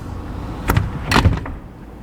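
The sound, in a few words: sliding door being opened and closed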